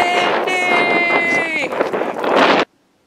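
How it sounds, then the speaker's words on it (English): Gusty wind buffets the microphone outdoors on a blustery day while walking a dog, a loud broadband roar under a voice for about two and a half seconds before cutting off. "It's windy!"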